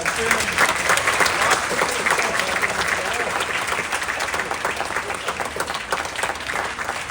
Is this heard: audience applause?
yes